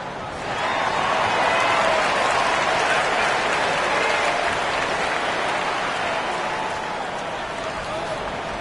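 A large arena crowd applauds and cheers in NBA 2K25, a dense, loud, sustained roar of clapping that swells and holds for several seconds, with a commentator's voice over it.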